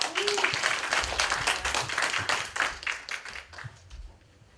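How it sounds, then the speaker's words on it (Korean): Audience applause greets a guest speaker, a counselor from a Korean family counseling center, at a community advisory council orientation; dense, steady clapping from a roomful of people gradually thins and fades out toward the end. "박수 부탁드립니다"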